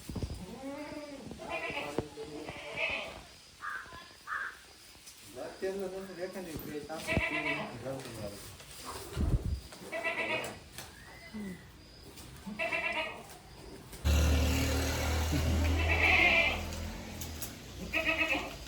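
Goats bleat repeatedly nearby, their wavering cries mixed with people talking, ending in a louder burst of background noise.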